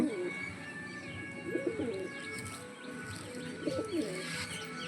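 Soft, repeated cooing of desi pigeons from Cuttack close by, in rhythmic bursts, with light chirps and a faint background hum.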